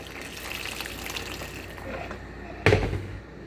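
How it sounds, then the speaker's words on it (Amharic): Boiling water is poured into lentil soup with potatoes and carrots, making a soft, steady gush in a quiet kitchen, ending with a sudden louder splash near the end. "ያው አሁን ደግሞ ውሃ እናደርግበታለን። እዚህ ጋር የፈላ ውሃ አለኝ።"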